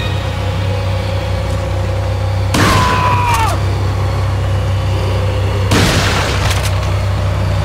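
Two loud, booming blasts of gunfire or explosions in a video game, each a few seconds apart, ring out over a constant low electronic hum.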